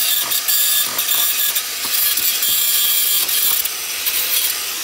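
A power grinder works close up against rusted, rotted metal on a truck rocker panel, giving a loud, continuous, harsh scraping whine that pulses slightly as it bites, with no talking.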